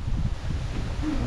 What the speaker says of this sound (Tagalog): Oh, mahangin.